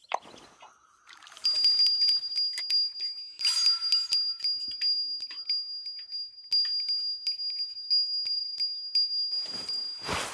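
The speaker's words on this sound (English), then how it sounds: "Dinner bell's going." A fishing rod's bite alarm bell rings in the video game Fishing Planet: after a few faint clicks, a bright metallic tinkling starts and repeats in quick, uneven bursts for several seconds, loud and close.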